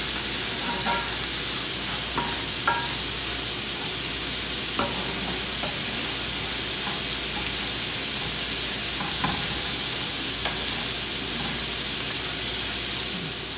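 Cauliflower rice fries in a pan with a steady, loud sizzle and hiss, broken by occasional close clicks and scrapes from stirring, with no voices.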